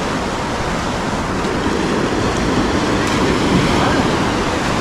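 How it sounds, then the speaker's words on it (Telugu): Sea waves washing onto a beach where a river meets the sea on the Karnataka coast near Gokarna, a steady broad roar of gentle surf without distinct breaks, close and constant throughout. "ఇక్కడ వేవ్స్ చాలా తక్కువ ఉన్నాయి"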